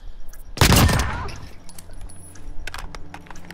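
A loud burst of video game gunfire erupts near the start, followed by scattered, fainter shots and clicks.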